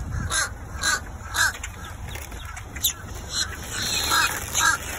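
A large flock of crows gathers around someone eating lunch, calling in repeated overlapping caws that come loud and near, with quieter caws farther off, in a busy irregular rhythm.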